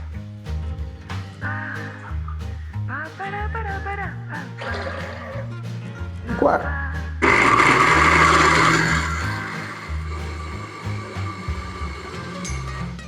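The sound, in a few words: blender blending soybeans with water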